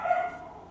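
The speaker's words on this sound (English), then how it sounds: "There's the barks." A puppy gives a single short, faint bark from another room.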